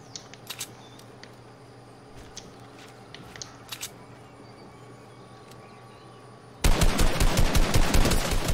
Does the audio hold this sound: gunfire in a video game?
yes